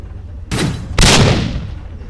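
Two heavy blasts from a mortar and twin turrets in a video game, each a sudden loud boom with a long rumbling tail, the second stronger than the first, with no talk over them.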